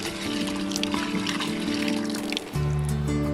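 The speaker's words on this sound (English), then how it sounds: "With a real old-fashioned water pump." Water gushes and trickles from an old-fashioned hand pump by a river campsite, a splashing flow over a low steady hum, with a brief break before it runs again.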